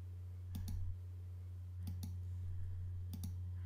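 Computer mouse clicks come close and crisp in three pairs of quick double clicks at even intervals, over a steady low electrical hum.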